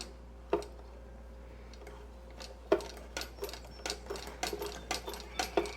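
A Singer 9W7 sewing machine, a Wheeler & Wilson D9 clone, stitches cloth as its handwheel is turned: sparse mechanical ticks at first, then quicker, irregular clicking stitches close by.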